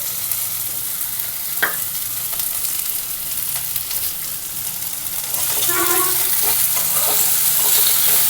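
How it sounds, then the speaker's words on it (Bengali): Potatoes fry in hot oil with a steady, close sizzle that grows louder and denser partway through, and a few stirring scrapes and clinks break in above it. "তেলে একটু আলুটা ভেজে নেব।"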